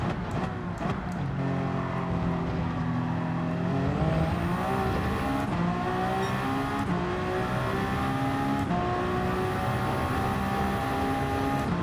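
A race car's engine in Gran Turismo 7, racing in the 24 Hours of Le Mans, revs hard and steadily, climbing in pitch through several gear shifts with brief drops between them, loud and continuous, with no talking.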